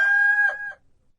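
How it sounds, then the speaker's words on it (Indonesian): A rooster crows once, a clear loud cock-a-doodle-doo with a bright tonal call that breaks up near the end and cuts off into silence. "ketika itu berkokoklah ayam"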